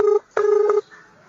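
Two bursts of telephone keypad dialing tones, steady beeps separated by a short gap, clear and close with no talking.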